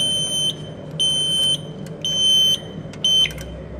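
Loud electronic fire alarm sounder beeps signaling a fault repeat in a steady pattern, four long high-pitched tones with short gaps, over faint background hum.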